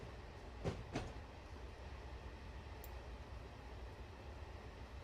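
A freight train with a caboose rolls slowly out of the yard on Cajon Pass in Train Sim 2019, a low steady rumble with two brief clanks early on and no talking.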